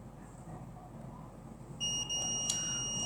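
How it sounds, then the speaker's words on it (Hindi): A buzzer on a TV motherboard under repair sounds a steady, fairly loud electronic tone that starts partway through, with a faint low hum underneath and no speech. "आप देखिए बजर जो बज रहा है"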